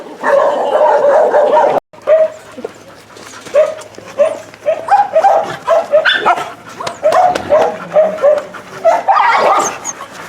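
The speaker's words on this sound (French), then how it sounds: "on va dans un enclos où il y a beaucoup de gros chiens." Many big dogs barking in an enclosure, a loud, dense chorus of overlapping barks and yips close by, bursting repeatedly after a brief opening silence.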